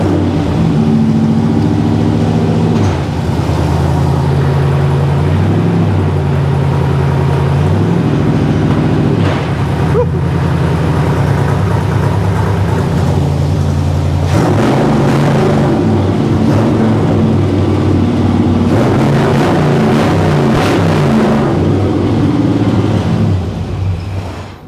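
A 1957 Chevy engine revving hard nearby, loud and sustained, with the pitch rising and falling through repeated throttle blips.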